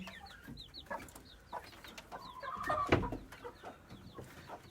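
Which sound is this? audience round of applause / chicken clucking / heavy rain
chicken clucking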